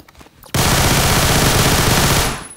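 Rama 1130 firing in full auto in the Phantom Forces video game, a loud continuous burst of rapid gunfire lasting about two seconds after a short quiet lead-in, then cutting off.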